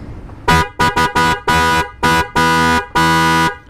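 A loud aftermarket motorcycle horn blasts repeatedly near the microphone, short toots first, then longer sustained honks, with brief pauses between each.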